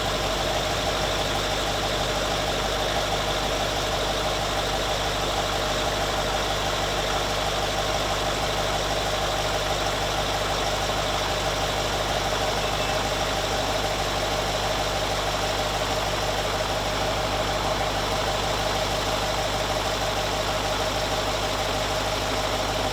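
A Range Rover engine idles steadily just after a ZF 6HP automatic transmission service, a loud, even, close rumble with a faint knocking texture and constant vibration throughout, no voices.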